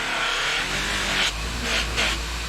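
An old grinder serving as a buffer for finishing camp knives whirs steadily at close range, with a couple of brief rises in pitch as it loads and unloads.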